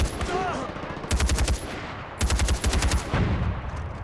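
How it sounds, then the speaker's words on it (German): Heavy artillery and gunfire in the Far Cry 4 video game, with two clustered bursts of rapid, booming shots near and loud over a continuous battle din, no talk. "Da ballern sie wieder mit der Artillerie"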